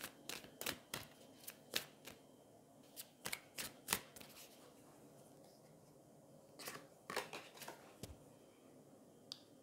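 Tarot cards are shuffled and dealt in a string of sharp, crisp snaps and flicks, clustered in quick bursts with brief quiet gaps between them, close and fairly soft.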